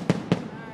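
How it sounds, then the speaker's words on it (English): Fireworks going off during a crowd event, heard as two sharp loud bangs about a quarter second apart, each followed by a brief fading rumble. "Fireworks."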